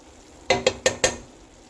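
Crushed garlic and ginger hitting hot oil for a chicken curry, with four quick bursts of sizzle and stirring spaced evenly across about a second, close and moderately loud, then a soft fry.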